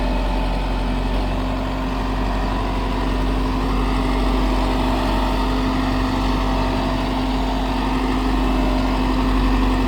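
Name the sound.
Sonalika Tiger 75 CRDI tractor engine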